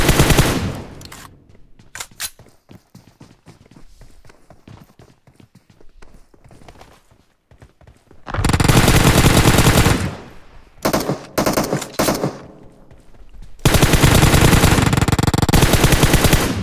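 M249 machine gun fire in PUBG Mobile: scattered softer shots and game sounds at first, then long loud sustained bursts of rapid automatic fire, close and dominant, with a brief break between bursts.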